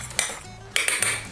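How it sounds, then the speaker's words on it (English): Dry cookie ingredients being mixed quickly in a bowl, heard as a few sharp clinks of a utensil against the bowl between soft scraping and rustling, close and alone, with no talk. "I'm just gonna very quickly mix everything together"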